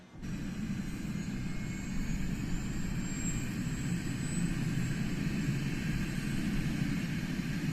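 A simulated Airbus H145 helicopter engine starting up in Microsoft Flight Simulator for a Texas air ambulance flight: a steady turbine whine and low rumble hold at even loudness throughout, with a faint high tone above and no talking.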